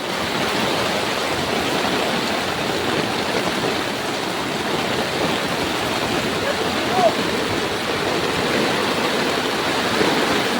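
Loud, continuous rush of floodwater, a dense broadband roar that stays steady throughout with no pauses.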